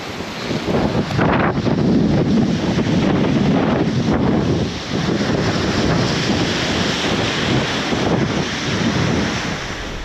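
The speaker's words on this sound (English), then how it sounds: "it looks like the waves are busting up pretty good there" Storm surf from a hurricane pounds a point on the coast, a steady roaring wash of breaking waves heavily mixed with gusting wind buffeting the microphone, loud and continuous with no voices.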